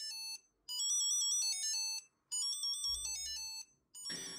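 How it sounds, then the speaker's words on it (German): An ESR Geo Wallet plays its Find My locating alert: a loud, close chime of bright melodic beeps in two long bursts separated by a short gap, then a brief rustle at the end. "kann die Geo Wallet über die App auch einen Sound abspielen und dann kann sie schnell und einfach geortet werden"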